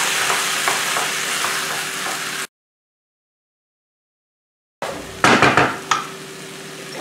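Eggs are stirred into nasi goreng rice frying in a pan: a steady sizzle with spatula scrapes, cut by a stretch of total silence, then returning with louder clanks and scraping against the pan.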